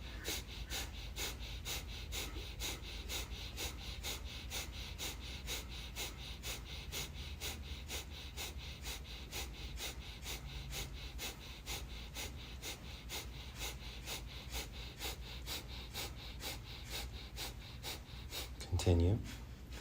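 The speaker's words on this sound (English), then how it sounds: "breathe in through both nostrils. And then exhale." Slow, steady breathing in through both nostrils and out again during a seated meditation practice, a soft continuous airy wash with a brief louder breath near the end.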